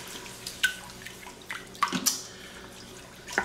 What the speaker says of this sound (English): I'm going to let that bubble up a bit.